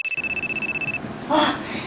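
A mobile phone rings with a rapid pulsing electronic tone for about a second, then stops, and a voice briefly follows.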